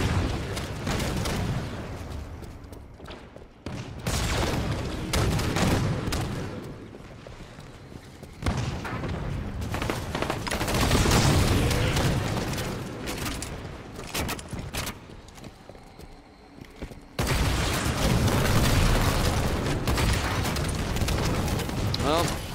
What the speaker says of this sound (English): This is why I don't normally spawn in rocket launchers.